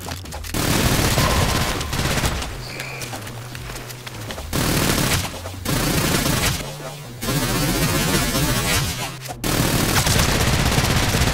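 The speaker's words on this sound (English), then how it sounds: "My gun sounds terrifying." Player's gun firing in the video game ROUNDS, long loud sustained bursts of rapid shots broken by brief pauses, harsh and booming up close.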